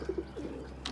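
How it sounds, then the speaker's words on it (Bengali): Rajshahi Giribaz pigeons, red-eyed birds, cooing in a few short low bursts near the start, followed by softer murmurs and a brief higher note at the end. "রাজশাহী গিরিবাজ কবুতর এগুলো"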